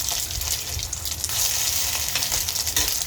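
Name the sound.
sardine patties frying in a hot pan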